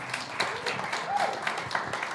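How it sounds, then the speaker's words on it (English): A venture capital panel audience claps to welcome Tim, a quiet, moderately sparse patter of applause, somewhat distant, with faint murmuring voices underneath. "So let's hear it for Tim. Applause."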